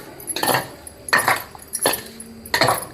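Spoon stirring chilli powder, garam masala and paneer together in a bowl, four bursts of scraping metal-on-bowl clatter in a steady rhythm, loud and close with no talk.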